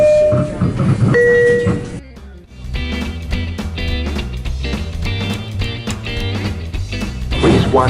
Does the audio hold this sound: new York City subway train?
yes